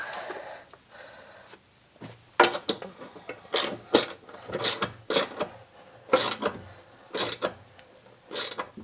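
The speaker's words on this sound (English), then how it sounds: "Just got to tighten all these down." Seat bolts on Recaro seats in a second-generation DSM Eclipse being tightened with a ratchet, heard as close, repeated bursts of rapid clicking strokes in an uneven rhythm, alone with no talking.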